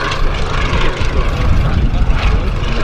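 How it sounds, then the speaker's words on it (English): Fairey Swordfish biplane's propeller engine drones steadily and loudly throughout, a continuous airborne roar at an air show with rough broadband rumble and no clear speech. "This particular aircraft is the oldest airworthy Swordfish in the world."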